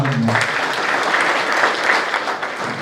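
A political rally audience claps in sustained, dense applause that stays steady and loud for a few seconds, with a brief trace of a voice at the very start.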